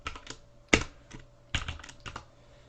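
Close keyboard typing while entering Java code: a few quick soft keystrokes, then sharper louder key clicks in small clusters with pauses, alone against faint background hum.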